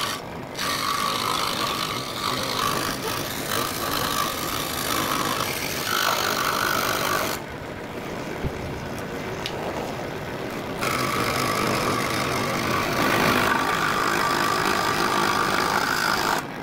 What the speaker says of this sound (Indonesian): kayu jati Belanda yang sudah ditempeli pola gambar akan kita potong mengikuti pola pakai gergaji